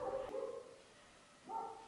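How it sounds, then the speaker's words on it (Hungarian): A dog barks nearby, a drawn-out bark followed by a pause and then a second shorter bark, moderately loud with no talking. "Még mindig nem az utolsó vaut hallattuk."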